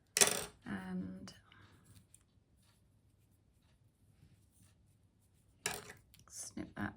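Scissors snip through crochet yarn on a finished crocheted piece, giving a couple of quick close cuts at the start, then near silence before faint handling sounds return near the end.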